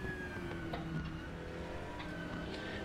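Race cars in a sim race, a Porsche Cup car and a GT4 chasing a BMW, with several engines droning together at a steady, continuous level and rising tonal whines, no talk over them.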